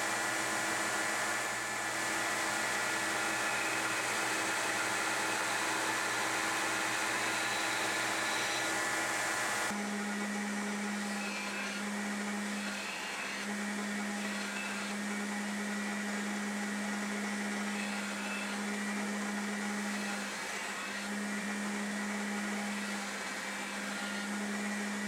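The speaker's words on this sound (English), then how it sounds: "Now we'll grind the bevels." Bevels being ground on sgian dubh knife blades, a continuous whirring machine hum with a steady high hiss that shifts in character partway through, running alone at moderate distance.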